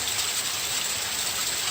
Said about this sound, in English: It's hailing, but it hasn't started running yet.